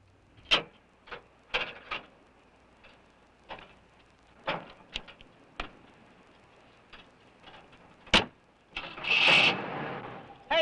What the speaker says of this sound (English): Sure I can. The motor works, see?